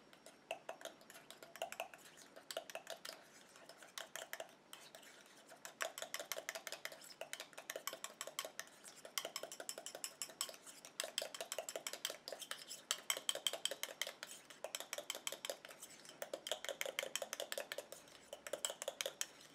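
Night cream ingredients being mixed in a bowl: a long run of rapid, regular clicking and tapping from a utensil against the bowl, steady and close, in quick bursts with brief pauses and no talking.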